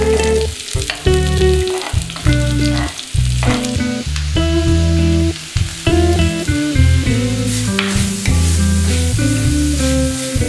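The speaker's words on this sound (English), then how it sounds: "Saute till the onions turn translucent." Chopped onion and green chilli sauté in oil with cumin and fennel seeds in a kadai, a loud continuous sizzle broken by repeated stirring scrapes, with no voices.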